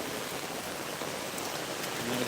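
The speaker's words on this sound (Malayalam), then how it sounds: "എല്ലായിടത്തും മഴയുണ്ട്" Heavy rain pours down steadily in a continuous hiss of drops striking surfaces, close and even throughout, with no clear talk.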